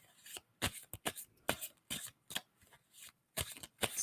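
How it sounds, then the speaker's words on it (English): Tarot cards riffle through repeated close, quiet shuffles in a series of short papery bursts separated by brief pauses, with no voices. "tell me when I should stop shuffling the cards"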